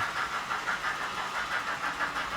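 Rhythmic chuffing of a model steam train, regular pulsing puffs repeating about every fifth of a second at a steady pace.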